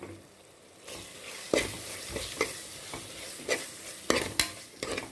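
Onions for chicken gravy sauté in a pan, a soft steady sizzle broken by repeated scraping stirs and spatula knocks against the metal, close by and without voices.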